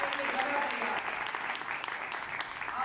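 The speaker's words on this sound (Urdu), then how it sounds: "اپنے لیے زوردار تالیاں بجائیں،" A church congregation applauding loudly, dense sustained clapping from many hands throughout, close and full.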